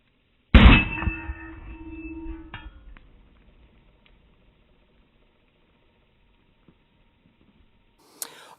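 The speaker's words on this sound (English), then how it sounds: "the muzzle blast of the 44 Magnum actually caused it to stop recording" A single loud .44 Magnum shot clangs against a steel leaf-spring target, the bright metallic ring decaying over about two seconds, followed by silence and a faint click at the end.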